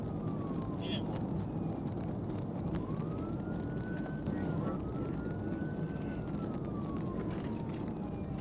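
Police car siren wailing during a trooper's high-speed pursuit, rising and falling in long sweeps over heavy road and engine rumble, steady and fairly loud throughout.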